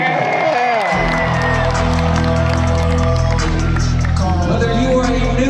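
A large rodeo crowd at the San Antonio Stock Show roars with sustained cheering, whoops and applause, loud and continuous throughout, with music or a voice faintly underneath.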